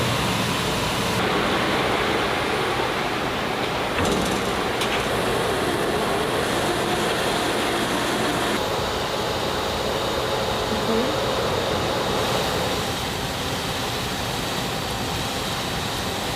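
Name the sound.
factory machine washing and spinning knitted sweaters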